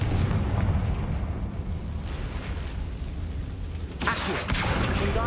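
A fiery blast spell in Hogwarts Legacy, a booming explosion with a rumbling low roar and a sharper burst near the end.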